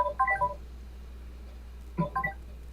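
Telephone dialing tones in a Twilight Zone video game: a quick burst of several short touch-tone beeps, a pause of over a second, then a second rapid cluster of beeps, clear and alone over a low hum.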